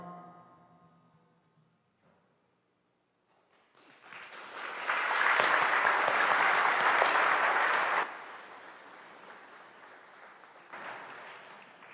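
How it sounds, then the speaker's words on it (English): A church congregation applauds inside the parish building, the clapping rising from a quiet start to a full, dense burst before tapering into scattered claps and a brief renewed swell. "you definitely deserve a round of applause"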